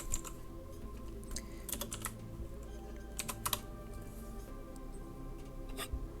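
Someone types a command on a computer keyboard, producing quiet, close, irregular clusters of key clicks with short pauses between bursts and no voices.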